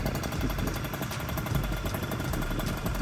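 A pink-kitted MBK Nitro scooter with a 70cc Top kit and Stage6 Sport Pro replica exhaust runs steadily at idle, a continuous close engine drone with a rough, pulsing low rumble throughout and no pauses.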